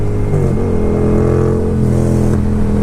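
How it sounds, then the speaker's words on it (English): A Yamaha Royal Star Venture motorcycle engine runs loud and close, a steady throbbing drone with slight rises and dips in revs throughout, no voices. "Caleb, your bike is so loud."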